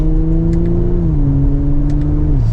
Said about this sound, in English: you have plenty of power with a mild acceleration there to get back up to speed